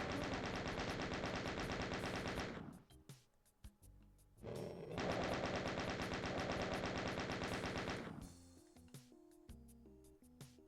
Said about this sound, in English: Good old chain gun for the win.